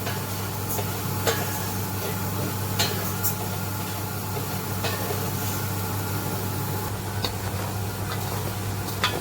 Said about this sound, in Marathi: चकलीचं साहित्य तांदूळ सुद्धा थोडे असे भाजून घेऊया आपण